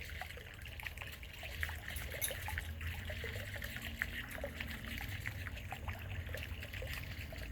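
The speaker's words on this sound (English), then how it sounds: "I'm just filling this thing up full of water is all I'm doing" Water trickles and pours into a container outdoors, a faint, steady running stream with small splashy ticks throughout.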